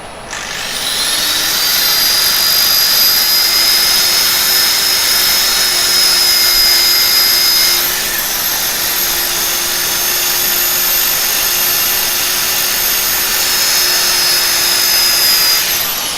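A steady high-pitched whine of a power drill sanding turned wood with 240-grit sandpaper runs continuously, its pitch dipping briefly midway before settling back.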